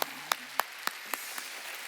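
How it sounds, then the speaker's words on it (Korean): During a Korean Sunday worship service at Jesus-Centered Church, a congregation claps in unison: about seven sharp, evenly spaced claps roughly three per second, gradually softening, with a brief voice at the very start. "하나님께 박수 주세요"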